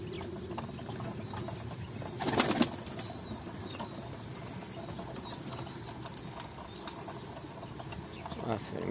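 Pigeon chicks and their parents in a garden coo softly near the feed, with a brief flurry of louder activity partway through, all at low level with faint background noise.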